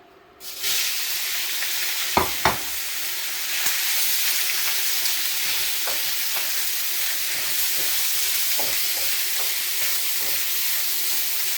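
Sliced flank steak hitting hot canola oil in a wok for Thai style beef curry, a sudden loud sizzle that settles into a steady close hiss with occasional stirring clanks and no talk.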